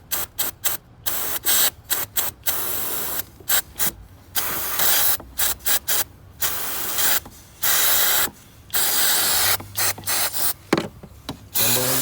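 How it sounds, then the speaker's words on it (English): Brake cleaner is sprayed onto the 4.2 engine of a 2011 Audi A8 in repeated loud hissing bursts of varying length, separated by brief pauses, close to the can. "Put your eyes on the brake cleaner."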